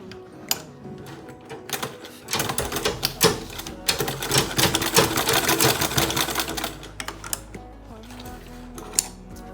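A sewing machine stitches a leather bag panel in rapid bursts of clattering needle strokes, starting and stopping, with rattles and knocks from handling the thick material nearby.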